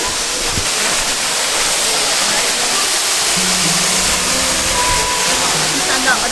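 Crystal Falls waterfall at Dorrigo, New South Wales, a steady, loud roar of falling water heard up close, as from a walkway behind the falls, with a voice faintly under it.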